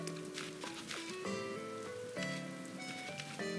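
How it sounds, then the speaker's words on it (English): Steady rain patters across a cartoonish island in Animal Crossing: New Horizons, a soft continuous hiss that runs under a bright, tinkly in-game melody stepping through its notes. "No, I like the rainy weather too."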